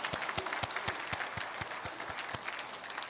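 A church congregation claps at a year-end Sunday service, a steady round of moderately loud applause with distinct hand claps throughout.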